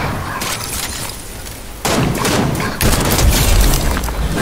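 Heavy video game gunfire with booming blasts and dense crackling, loud and continuous, getting louder partway through and again near the end.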